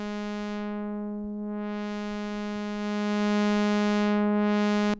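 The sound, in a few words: synthesizer oscillator with filter applied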